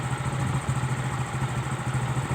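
A motorcycle engine idles and putters steadily on a road under concrete construction, a close, continuous low throb with a faint background hiss and no talking.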